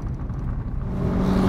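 Steady low rumble of a small car's engine while driving, with the drone building slightly toward the end and no talking.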